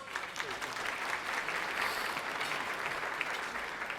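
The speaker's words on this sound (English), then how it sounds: "John Kamen, give him a round of applause." Steady, sustained applause from a luncheon audience at a United Way event, many hands clapping evenly and fairly close throughout.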